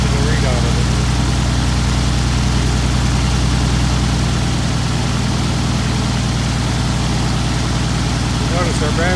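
A UL520iS aircraft engine in a Cozy Mk. IV homebuilt plane drones loud and steady near the microphone, with a voice talking over it.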